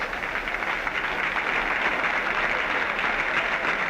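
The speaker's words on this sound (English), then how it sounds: "in a moment there'll be a burst of applause because it'll be Bradman" A cricket crowd at an Ashes Test bursts into sustained, even applause as Bradman walks out to bat, a broad distant roar of many hands heard with a faint commentary voice beneath.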